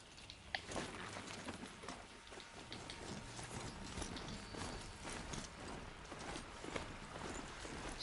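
Faint, steady clip-clop of horse hooves in the Horizon Zero Dawn video game, a quiet rhythmic trot under a low ambient game soundscape with no talking.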